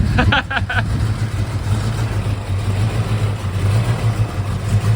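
A Fox Body Mustang engine cranks with a quick rhythmic starter chatter, then catches and settles into a steady, loud, close running rumble.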